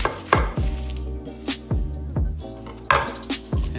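Roasted garlic bulbs being cut in half on a cutting board, a series of close, solid knife thunks spaced irregularly, with no voices.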